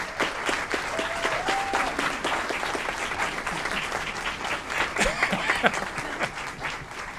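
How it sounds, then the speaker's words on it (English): A round of applause at an Aurora city Committee of the Whole meeting for local business owner Abby Kemp: continuous, moderate clapping from the room, sustained for several seconds. "Please give a round of applause for Abby Kemp."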